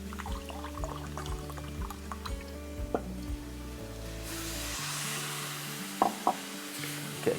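White wine poured into a cooking pan for chicken à la king, a soft liquid splash and sizzle over steady kitchen hum and clinks, with no talking.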